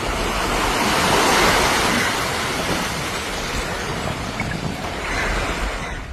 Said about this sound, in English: Strong winds on Lake Washington created large waves that repeatedly struck the Evergreen Point floating bridge